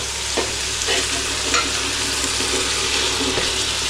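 Sizzling and stirring in a hot pan during vegetable pulao cooking, with green peas added. Continuous loud frying hiss, with a few scrapes and clinks of the spoon and a faint low hum in the background.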